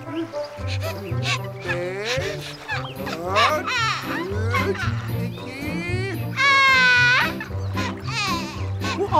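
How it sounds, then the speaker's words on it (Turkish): A cartoon bear cub cries loudly in a long, wailing stretch with rising and falling sobbing tones, played over a busy musical background. "Bu ağlama sesi de nereden geliyor?"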